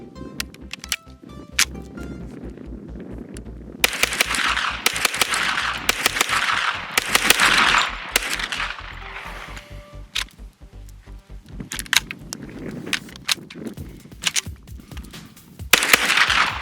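Gunfire from a pistol fed by a Chris 33-round 9mm magazine, a string of sharp close shots fired in quick bursts with brief pauses between them and ringing echoes after each volley.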